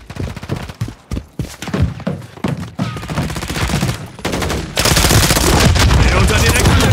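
Video game machine gun fire rattles in loud, repeated bursts, building into a dense continuous barrage near the end, with occasional German shouting mixed in.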